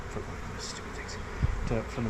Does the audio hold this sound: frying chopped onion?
no